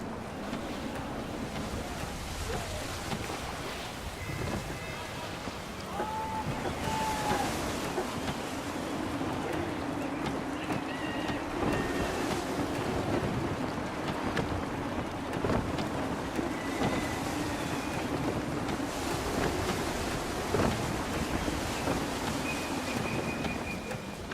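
Gusty wind and ocean waves roar continuously around a sailing ship in Assassin's Creed 3, with surf washing and wind buffeting at a constant loud level throughout.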